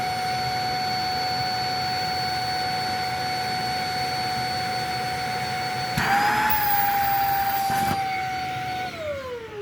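A Shark vacuum cleaner runs steadily during a suction test, giving a loud continuous whine with tonal hum; around the middle the pitch rises and the roar briefly intensifies, then the motor winds down near the end.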